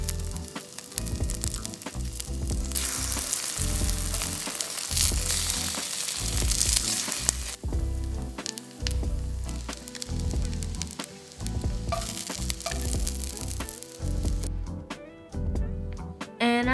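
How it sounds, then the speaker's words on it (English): Korean pancake pan frying in vegetable or canola oil, garnished with red chili, giving a loud, steady sizzle with close crackling spatters that carry on throughout. "just put vegetable oil or canola oil on fry pan and pan fry"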